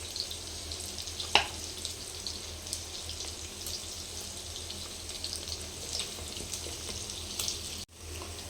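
Paneer cubes searing on one side in a pan for paneer butter masala, a quiet, even sizzle of frying that runs throughout, broken by a sharp clink near the start and a short dropout near the end.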